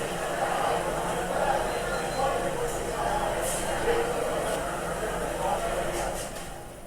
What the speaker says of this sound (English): Restaurant noise, 70 dBA.